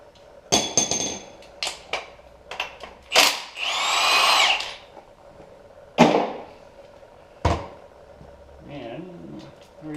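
A power tool working a big bolt out of a GMC Canyon 3.7 Atlas five-cylinder engine during a teardown, several short bursts and one longer whining run, with metallic clanks between them, close by.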